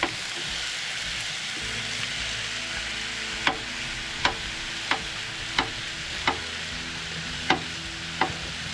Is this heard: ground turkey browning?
yes